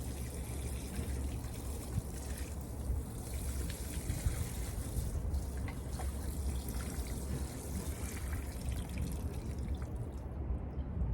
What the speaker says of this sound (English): I water the soil.